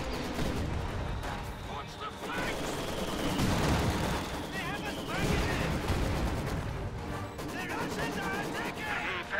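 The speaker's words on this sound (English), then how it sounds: "Mortars being exchanged." Mortar fire rolls through a video game battle as dense, continuous booms and gunfire. The barrage stays loud and busy throughout, with a voice speaking over it.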